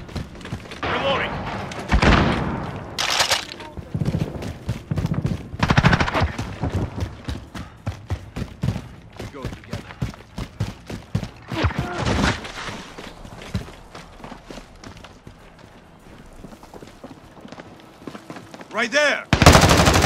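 Call of Duty Modern Warfare gunfire: rapid bursts of automatic fire and sharp single shots crackle through a firefight, loud and close, with brief shouted callouts between the volleys.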